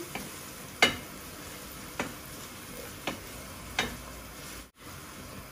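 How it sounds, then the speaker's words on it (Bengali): Onion and garlic tempering for a fish curry sizzles steadily in a pan at close range, with a few sharp spoon clinks and stirring knocks spaced about a second apart; no voices. "পেঁয়াজ আর রসুন দিয়া বাগার দিলাইলাম আমার আই মাছের কারি"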